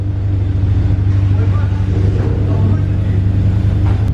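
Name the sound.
loud car engine, Honda Accord Euro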